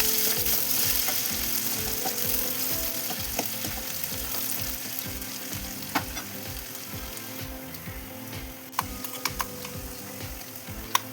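Finely chopped onion frying with curry leaves in a pan for Marathi masale bhat, a continuous soft sizzle with rhythmic scraping stir strokes and a few sharp clicks of a spoon against the pan, no talk.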